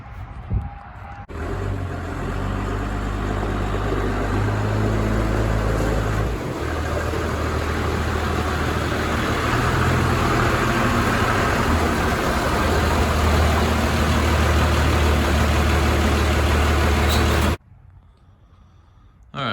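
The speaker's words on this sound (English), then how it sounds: "we're gonna get the truck pulled in and we're gonna get going on it" A Cummins diesel-swapped Chevy truck idles with a deep, steady rumble as it pulls into a shop, the note shifting slightly midway before the engine cuts off near the end.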